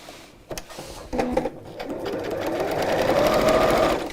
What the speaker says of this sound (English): Sewing okay with a standard foot.